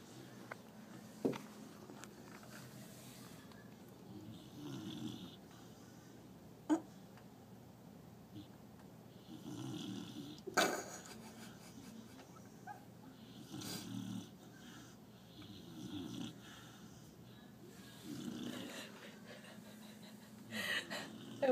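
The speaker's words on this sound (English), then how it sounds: "he is snoring so freaking loud" A dog lies under a table snoring, slow repeated rasping breaths rising and falling every few seconds, close and fairly quiet, with a few sharp ticks in between.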